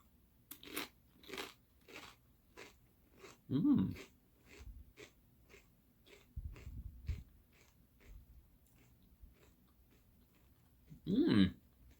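Doritos Jumpin' Jack Cheese tortilla chips being bitten and chewed up close: two loud crunching bites followed by a steady run of rhythmic, moist chewing and crackling, with occasional breathing and no talk.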